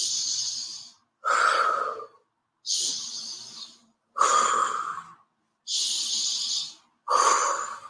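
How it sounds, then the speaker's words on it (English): Slow, deliberate breaths in and out during a guided breathing exercise, each long airy inhale and exhale lasting about a second, repeated evenly in a quiet close setting with no talking. "So breathing in."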